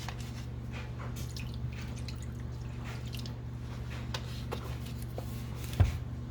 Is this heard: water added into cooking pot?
yes